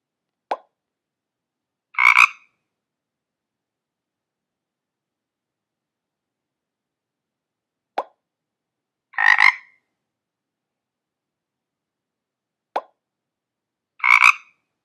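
Cartoon frog croaks from a Motion Math place value game app: three separate pairs, each a soft plop followed by a short clear croak, spaced several seconds apart against complete silence.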